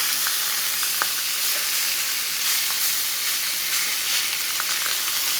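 Food browning in an iron skillet with a steady, dense sizzle and hiss throughout, plus a few faint pops and stirring clicks, no talking.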